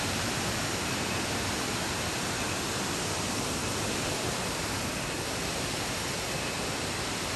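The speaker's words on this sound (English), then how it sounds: "These are absolutely stunning waterfalls." Waterfalls roaring as a loud, steady, broadband wash of falling water, unbroken and close for the whole stretch, with no voices.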